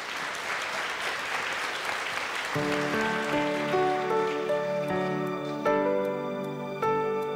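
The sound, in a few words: audience applause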